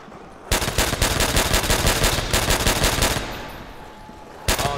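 Carbine fire in Call of Duty: World at War Nazi Zombies comes in a loud, rapid string of shots lasting about two and a half seconds, then a short burst after a pause.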